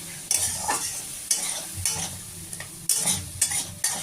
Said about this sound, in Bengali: এবার আমি ভালো করে নেড়ে চেড়ে এটাকে কষতে দিয়ে দেব